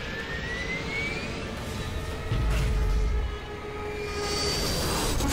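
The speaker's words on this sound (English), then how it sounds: "Airplane coming in." An airplane flies in during a zombie-apocalypse finale of the video game Left 4 Dead, a loud, sustained engine roar with a whining tone that swells to a heavy rumble midway, then eases slightly.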